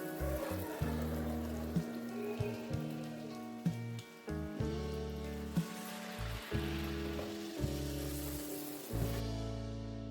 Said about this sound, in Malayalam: അത് ചൂടായി വരുന്ന സമയത്ത് ഈ പഴം ഈ ഒരു ബാറ്ററിൽ മുക്കിയിട്ട് ഇതിൽ ഇട്ട് കൊടുക്കുക.